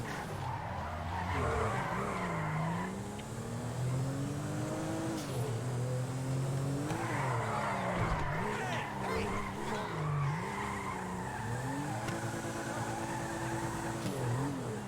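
Modified car racing fast in GTA 5, engine revving up and down in repeated climbing pitch sweeps with tires squealing and skidding, loud and close for the whole stretch.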